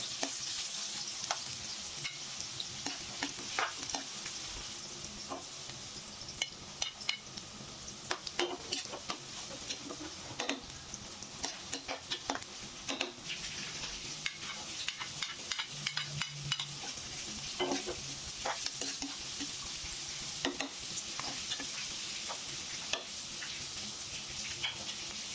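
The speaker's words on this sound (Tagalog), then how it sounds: "At pag matapos na maglagyan ng mantika mainit, na ilagay na natin ang ating hiniwang luya" Sliced ginger sizzles and crackles steadily in hot oil, with intermittent stirring scrapes and clicks against the pan.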